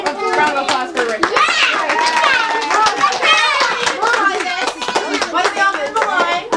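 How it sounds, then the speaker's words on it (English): Applause breaks out at a child's 8th birthday party, hand claps scattered under busy children's chatter and voices throughout, a lively indoor party crowd. "A round of applause for Rick."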